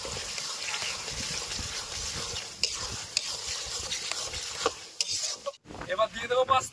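Tomato sauce stirred and sizzling in a hot pan for chicken garlic pasta, a steady close frying hiss with scraping stir strokes, ending in a few louder clatters.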